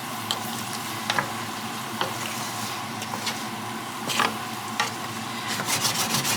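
A spoon scrapes and stirs through a sizzling pan of veggie tikka masala sauce with vegetables and beans, with soft frying hiss underneath and occasional sharper clinks against the pan.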